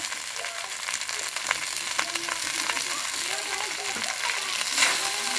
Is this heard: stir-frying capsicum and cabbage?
yes